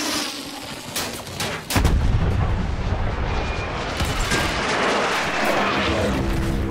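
An anti-tank gun fires in Battlefield 1 with a loud booming report, followed by a long rumbling roar of explosion and debris that fills the rest of the clip, alongside a few sharp earlier shots.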